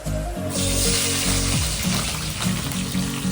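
Onions and green chillies hitting hot oil for a grandmother-style chicken curry, a sudden loud sizzle that bursts in and keeps hissing steadily, nearby, with some faint clinks beneath.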